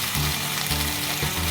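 Chicken frying in a pan gives a steady, close, broadband sizzle, with soft periodic stirring or lid sounds repeating about every half second, and no voices.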